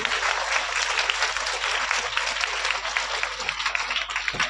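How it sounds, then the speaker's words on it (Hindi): An audience at a school motivational seminar claps steadily for a teacher, a dense, sustained round of applause heard fairly close for the whole stretch with no voices over it. "ये भाई अपने टीचर के लिए जोरदार ताली बजा दीजिए।"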